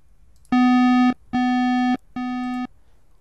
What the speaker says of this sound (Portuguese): Essa chave aqui liga os avisos sonoros